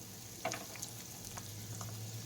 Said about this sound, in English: In my frying pan here, I just have a pound of ground beef that I put in here, and I started to brown it up.